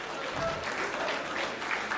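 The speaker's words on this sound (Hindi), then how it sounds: "समझ गए हो तो तालियां आनी चाहिए उस नेता के नाम" Audience applause at a Hindi comedic poetry recital, a fairly faint, even patter of clapping from a crowd heard at a distance.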